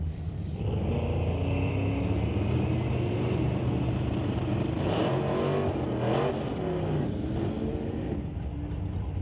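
Two sportsman drag race cars launching side by side at Pacific Raceway, a loud sustained engine roar with rising revving tones, steady and powerful across the whole stretch.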